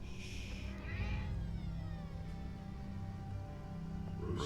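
Cat meowing in a Batman Telltale adventure game, a couple of faint drawn-out meows over a low steady hum of background music, with no talk.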